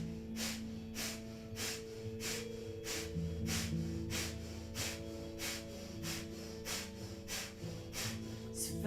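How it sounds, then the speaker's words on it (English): Rapid, evenly spaced forceful exhalations through the nose of kundalini yoga breath of fire, about two per second, close and steady, with soft background music droning underneath. "begin breath of fire for 2 minutes"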